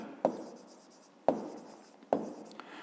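Pen or pencil taps and scratches on paper while a fifth-grade maths exercise is written out by hand, with three sharp strokes landing at roughly one-second intervals over a soft, close scratching texture.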